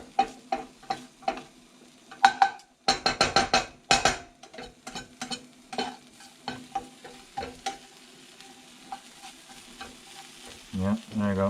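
Potstickers crackle and sizzle in a frying pan, irregular popping bursts with scraping stirs, louder early then settling into sparse crackles.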